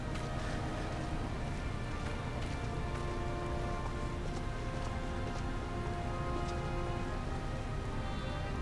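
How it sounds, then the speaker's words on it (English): Rain falling in Final Fantasy XIV, a steady dense patter on surfaces with scattered sharper drips over a constant low rumble, continuous and even, with no voices. "Sometimes rain. Like right now."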